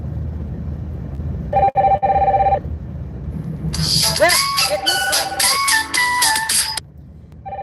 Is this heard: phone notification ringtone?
yes